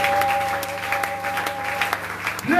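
A church congregation applauding, a steady dense patter of many hands clapping at moderate distance, carrying on evenly throughout with a steady tone humming underneath.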